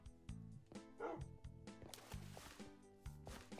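Tamed dogs in the Minecraft SkyWars video game give quick, repeated yips and barks in short bursts, fairly quiet, with a few whimpering notes in between.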